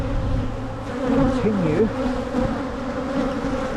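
Honeybees buzz steadily around brood frames while a hive is split, a dense close hum with a few louder passes of individual bees drifting by, and a voice speaks faintly underneath.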